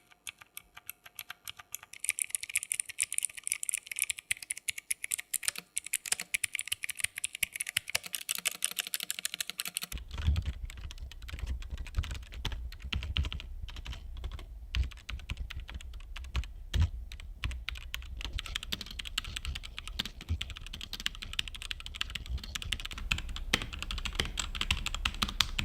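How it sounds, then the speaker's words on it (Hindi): Budget 60% and 65% mechanical keyboards typed on in turn, a dense, steady clatter of keystrokes that shifts to a deeper, thockier tone partway through as a different board takes over, with no talking. "सारे कीबोर्ड्स का एक साउंड टेस्ट ये रहा आपके सामने"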